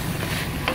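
Grated carrots being stirred into a pot of Kyrgyz beef goulash, a brief close wet scrape and gentle sizzle.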